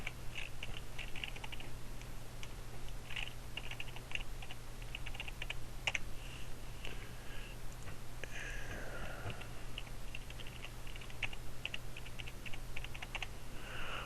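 Steady keystrokes on a computer keyboard while a username and password are entered, a continuous run of quick clicks with small pauses over a low steady hum, no talking.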